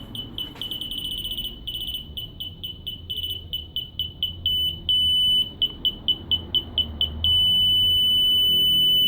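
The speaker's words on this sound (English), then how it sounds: "so it gives you roughly about 30 centimeters where it does a constant beep" A high electronic rear parking sensor beeper on a 2008 Toyota Aygo pulses, its beeps speeding up as they go until they merge into one constant tone at about 30 centimeters, over a low engine hum.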